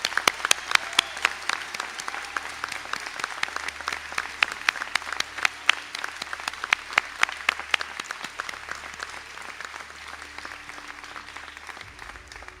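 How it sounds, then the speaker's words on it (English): Applause for graduates at a college conferring ceremony in Sligo, a large hall filled with sustained clapping from many people, crisp individual claps popping out over a soft crowd bed, gradually thinning toward the end. "to stand for a round of applause"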